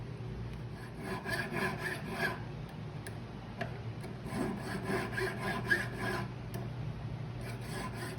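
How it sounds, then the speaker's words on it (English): A hand file rasps back and forth along the edges of a gold-rimmed jewelry piece with a mountain scene, in steady repeated strokes, close and fairly quiet. "So I'm filing the edges because it evens everything out and takes out all the bumps."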